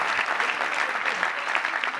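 Steady audience applause at a kavi sammelan poetry recital, a dense continuous patter of many hands clapping for the full two seconds, moderately loud with no talk over it.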